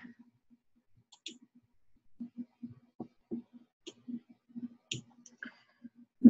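Computer mouse clicking, a string of soft, close, irregular clicks spread across the clip with quiet gaps between them, heard alone with no talking.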